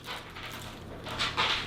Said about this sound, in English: that's my dog in the background moving around